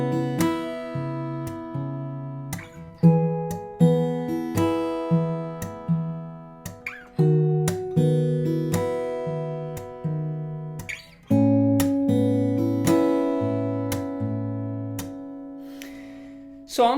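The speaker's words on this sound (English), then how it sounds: "So I'm playing basically the thumb slap, but also the thumb slap and strum." Acoustic guitar played with a thumb-slap-and-strum percussive technique through a chord progression: sharp rhythmic slaps on a steady beat alternating with ringing strummed chords, close and clear, no talking.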